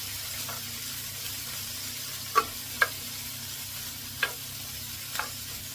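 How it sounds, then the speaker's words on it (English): Sun-dried tomato being stirred into Tuscan chicken in a pan: a soft sizzle with a few distinct scrapes and knocks of the utensil spaced a second or so apart. "So I'm going to add in now the sun-dried tomato. Okay, we just give that a quick mix."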